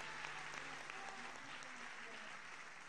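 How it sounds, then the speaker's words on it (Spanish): Faint, steady audience applause at an official event announcing works for the universities of Quilmes and La Plata, a continuous distant wash of clapping with murmuring voices mixed in. "le damos un fuerte aplauso"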